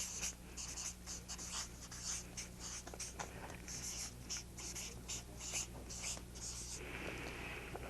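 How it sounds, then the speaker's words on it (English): A pen scratches across paper while a note is written down, quick rhythmic strokes in short bursts, close and quiet against a faint steady hum in an indoor setting. "So I'm just going to write that down."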